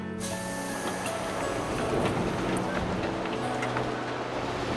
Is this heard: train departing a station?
yes